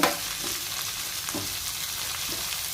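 Onions fry in a tempering of oil for moong dal upma, a close, steady sizzle with soft stirring scrapes running evenly throughout, no talking.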